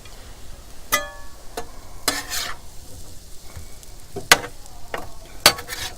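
Fajita vegetables with seasoning sizzle softly on a Blackstone flat-top griddle while a metal spatula scrapes and stirs in several sharp, irregular strokes.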